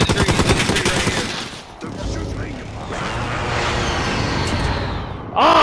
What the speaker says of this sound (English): The airstrike worked!